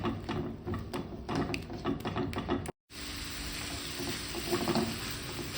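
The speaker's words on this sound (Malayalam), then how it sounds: "നമ്മൾ ഇത് ഉണ്ടാക്കുമ്പോൾ ഇങ്ങനെ ഇളക്കിക്കൊണ്ട് നിൽക്കണം." Sugar and egg mixture stirred in a pan over a low flame, a soft sizzle with repeated close scraping and tapping strokes of the spoon, then a brief gap and a steadier hiss, no talk.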